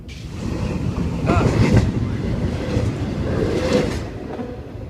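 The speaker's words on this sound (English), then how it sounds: "That was that train." A train passes at speed, around 70 mph, on a rail line in western New York at night, a steady loud rumble and clatter swelling twice as the cars roll by, with faint voices.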